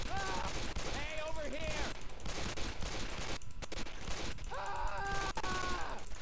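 Rapid gunfire and shots ring out in a Left 4 Dead 2 online match, dense and continuous with ragged bursts, while several players' voices talk and shout over it throughout.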